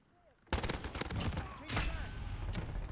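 AN-94 rifle fire in Call of Duty Modern Warfare during a Team Deathmatch game, a loud burst of close shots that starts sharply and runs as rapid repeated cracks, with faint talking underneath.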